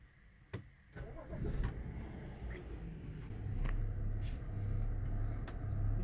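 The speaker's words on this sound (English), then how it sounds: "So I'm going to start up the car." A BMW with an N55/N20 engine starts up: a few sharp clicks, a brief cranking burst, then the engine catches and settles into a steady low idle, close by, with faint voices in the background.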